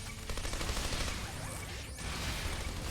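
Explosions in the video game Xenoblade Chronicles 3 blast and crackle in a dense, noisy burst of battle effects, loud and continuous over about three seconds with no talk.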